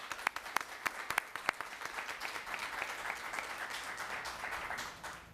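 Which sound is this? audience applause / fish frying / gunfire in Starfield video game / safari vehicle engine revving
audience applause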